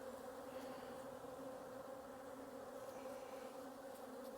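Honey bees in an open beehive hum in a steady, continuous, faint buzz of many wings, with no voices over it.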